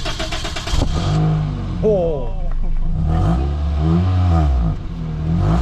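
A Mercedes-AMG engine starts and revs hard through its exhaust in loud, close rising and falling roars with a rumbling idle between revs. A voice exclaims briefly over it.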